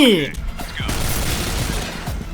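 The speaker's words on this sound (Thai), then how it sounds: "พี่ยิงกันโคตรโหดเลย" Gunfire from the Point Blank online shooter, a dense spread of rapid shots and impacts that carries on steadily for the whole stretch, with a game voice sounding briefly near the start.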